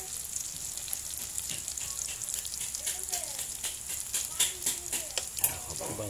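Salagubang beetles sizzle and crackle steadily in hot oil with garlic and chili, a dense frying hiss with scattered pops that grow a little louder toward the end, with no talking.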